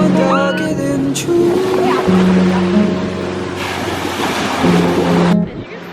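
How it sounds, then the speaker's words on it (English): Ocean surf at a cold, clear-water beach in Cornwall gives a broad, steady wash throughout, with a low tonal hum running underneath and a voice heard faintly. "this is the ocean behind me"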